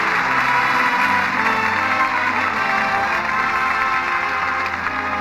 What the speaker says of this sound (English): that applause says it all